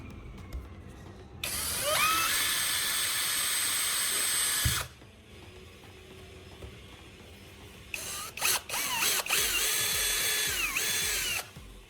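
Two bursts of a high-pitched power drill whine, the second broken by short stops and restarts, as a bit cuts a hole through the center of a 1.5-liter plastic bottle cap.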